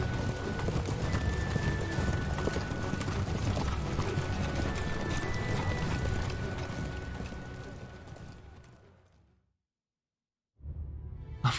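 Massed cavalry horses gallop in Dynasty Warriors 8, a dense continuous drumming of hooves with occasional whinnies that fades away, cuts to silence, then resumes abruptly.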